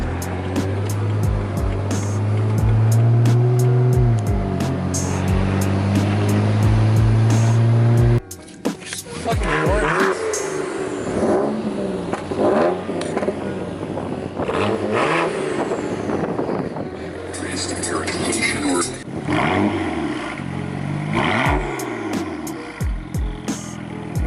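BMW N54 engine with a catless downpipe revving, a loud exhaust drone rising and falling in pitch with repeated throttle blips, steady at first, then rougher and more varied.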